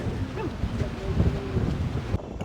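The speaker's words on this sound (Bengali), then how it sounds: "বাতাস সাংঘাতিক জোরে বইছে" Strong monsoon wind at Lonavala buffets the microphone in a low, rumbling roar, steady throughout and cutting out abruptly near the end.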